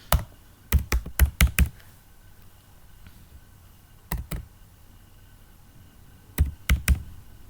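Someone types a search query on a computer keyboard in three short bursts of quick, close key clicks, separated by quiet pauses.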